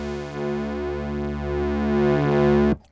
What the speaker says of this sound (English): There is a distortion function on this entire synth, and it just adds a bit of grit and